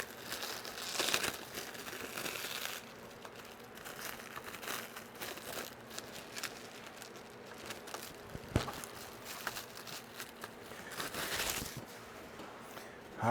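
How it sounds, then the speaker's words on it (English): Plastic packaging crinkling and rustling continuously as a Traxxas TRX4m Defender RC truck is unwrapped, close and steady with occasional sharper crackles and tears. "but let's get this unwrapped"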